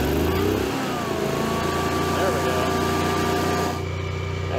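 A faulty Generac Honeywell generator engine with overspeed problems runs close by in a loud, continuous, buzzing drone with a strong hum, shifting slightly in tone near the end.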